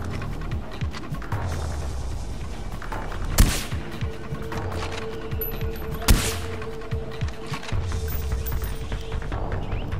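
Gunfire in the Far Cry 4 video game: two sharp, loud single shots spaced a few seconds apart over a low rumbling ambient background.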